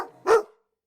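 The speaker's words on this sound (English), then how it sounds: "Gruff barks twice more" A dog named Gruff gives a single short, close bark that cuts off into silence.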